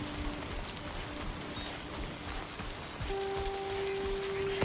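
Steady rain falling in the video game Death Stranding 2, a dense continuous hiss of drops on surfaces with no talk, joined after a few seconds by a sustained electronic tone.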